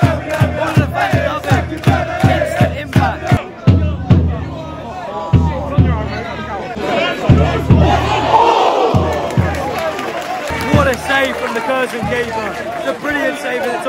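Football fans in a stadium crowd at a Cambridge United versus Curzon Ashton cup match roar and chant, with rhythmic claps and thumps early on and a swelling cheer later, with commentary-like talk mixed into the din.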